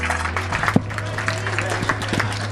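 Wedding guests clap just after a couple is pronounced husband and wife, scattered hand claps rising over a steady hum with voices murmuring underneath.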